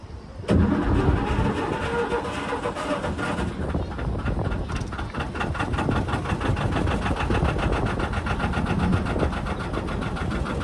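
Narrowboat diesel engine starting up with a sharp onset, then settling into a steady, close, rhythmic chugging idle that continues alone.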